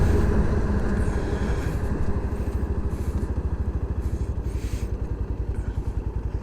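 A Yamaha FZ-S V3 motorcycle accelerates hard on a top-speed run, its engine a steady, loud, rapidly pulsing drone that climbs in rate while wind noise rushes over it.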